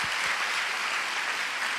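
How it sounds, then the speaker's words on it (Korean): Korean church congregation applauding to welcome visiting members during a special service, a brief, dense burst of many hands clapping at a steady level throughout. "우리 박수로 한번 환영하십시다."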